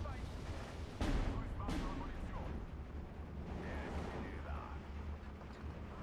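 Artillery shells explode in a steady barrage in the World War II strategy game Steel Division 2, with a sharp boom and several rumbling impacts over a continuous low battlefield roar.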